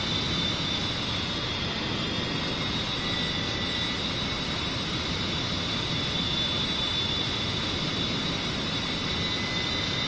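A loud, steady aircraft engine roar at high power, constant and droning with a broad rumble and no break throughout.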